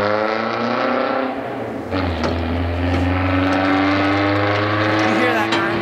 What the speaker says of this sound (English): You hear that guy in that truck?